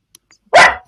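A dog lets out a single sharp, loud bark close by, with near silence around it.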